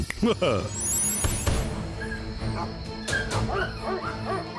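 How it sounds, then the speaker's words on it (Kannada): Several dogs yip, whimper and bark in short bursts, close by, mixed with a person talking and a high squeaky whine. "ನನ್ನ ಪ್ರೀತಿಯ ಡಾಗ್ಸ್, ಎಷ್ಟು ಸುಂದರವಾಗಿದ್ದೀರಿ."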